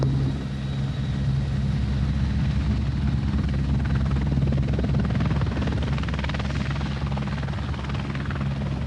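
A helicopter based at Liverpool Airport drones continuously with a heavy engine rumble and a rapid rotor thump, loud and close throughout.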